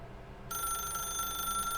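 A telephone in The Stanley Parable starts ringing abruptly partway through, a bright, continuous electronic ring over a low ambient room tone.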